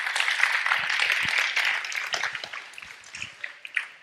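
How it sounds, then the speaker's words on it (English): Audience at a public speaking workshop gives a round of applause to welcome the presenter, a fairly quiet, dense patter of many hands that thins and becomes more scattered toward the end. "So with a loud round of applause"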